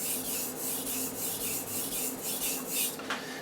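Chef's knife sharpened on a Japanese water stone, steady rhythmic scraping strokes repeating about every third of a second, close and fairly loud, with a slightly different rasp near the end.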